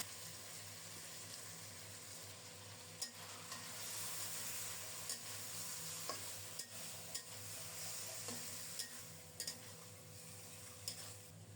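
Marinated fish sizzles in hot mustard oil with browned chopped onions, a steady soft frying hiss broken by scattered sharp clicks and taps of a utensil against the pan, fairly quiet and with no voices.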